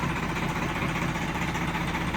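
A tractor engine, model 855 or 3630, idles in a field before ploughing with a 13-furrow plough. It makes a steady, close, rumbling drone that holds unchanged throughout, with no voices.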